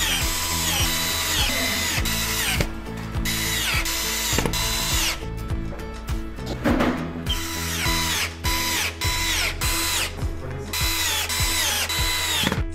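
Power screwdriver driving self-tapping screws from the hardware kit into a bed frame's side rail, in repeated loud whirring bursts separated by short pauses, with ratcheting clicks, close up and no voices.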